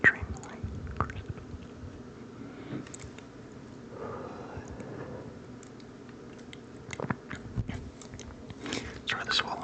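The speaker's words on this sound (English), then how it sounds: "Sorry, the swallowing was kind of loud." Wet chewing and swallowing right against a sensitive ASMR microphone, close and crisp, with soft mouth clicks and a breathy, whisper-like voice mixed in.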